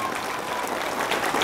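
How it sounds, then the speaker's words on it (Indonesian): Audience applause at a religious gathering celebrating an anniversary, a dense continuous wash of many hands clapping together, steady and moderately loud, with no speech over it. "Tepuk tangan semuanya untuk Baitul Mubarak."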